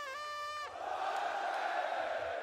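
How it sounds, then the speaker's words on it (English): A large arena crowd at a CS:GO Major in Paris roars and cheers in a loud sustained wash of voices, following a brief tonal sound at the start. "We may have taken a break, but the crowd certainly has not."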